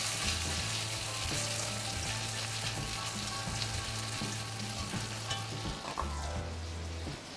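Cherry tomatoes cook with sautéed onion in a pot, giving a loud, dense, continuous sizzle and crackle with stirring throughout and no talking.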